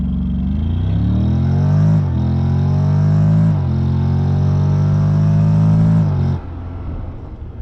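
A Honda Forza 750 maxi-scooter accelerating hard from a standstill to 100 km/h without traction control, its engine note climbing steadily through rising revs, dipping briefly at around two and three and a half seconds, then dropping off sharply near the end, loud and close.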